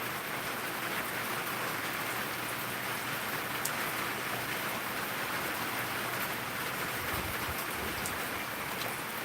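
Chilly rain falls heavily and steadily, with water running off a roof into a small trash can, producing a constant broad wash of spattering drops, alone without speech.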